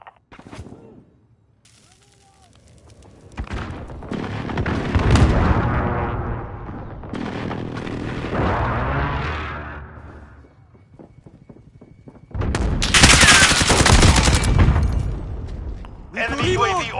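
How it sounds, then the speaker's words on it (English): A precision airstrike in a video game brings heavy booming explosions mixed with gunfire, in loud rolling bursts that rise and fade, with voices heard alongside. "Enemy precision airstrike. Get down."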